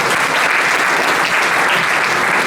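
An audience applauds loudly and steadily at a public meeting in support of Emmanuel Macron in Villeneuve, Alpes-de-Haute-Provence, the dense clapping close and continuous throughout.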